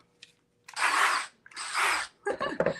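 A battery-powered cordless drill runs in two loud, steady bursts of about a second each, with a short pause between, followed by clattering handling noise, while fixing décor pieces in place.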